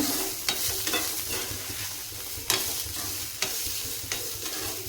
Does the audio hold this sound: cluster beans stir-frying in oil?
yes